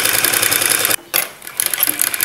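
A sewing machine stitches cross piece cloth for a dhoti-style pyjama, a loud close rapid whirring run that stops briefly, then restarts in shorter uneven bursts.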